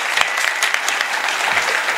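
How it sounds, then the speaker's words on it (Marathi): Loud, dense applause from an audience at a Marathi kirtan, sustained hand-clapping from many people filling the whole moment with no talking over it. "अगदी अप्रतिम टाळ्या वाजव त्यांच्याकरता"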